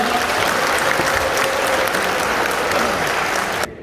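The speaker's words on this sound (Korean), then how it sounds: "다시 한번 감사의 박수" Dense, steady applause from the audience at a national elders' convention lecture, loud and continuous throughout before cutting off abruptly near the end.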